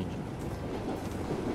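Diesel train running in the game Train Simulator 2015, a steady rumbling rolling noise with faint clicking, continuous and moderately loud throughout.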